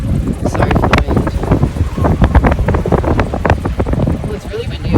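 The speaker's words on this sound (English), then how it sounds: "Oh, it's really windy up here today." Strong wind buffeting the microphone outdoors on a beach island, loud rumbling gusts throughout with a voice faintly beneath.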